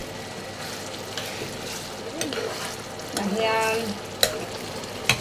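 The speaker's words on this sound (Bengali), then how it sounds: "নাড়া দিচ্ছে এবং সুন্দর মতো টমেটোটা রান্না হচ্ছে।" Tomato cooks in a pan as it is stirred, with a moderate sizzle, intermittent spoon knocks and scraping, and a short spoken word over the frying.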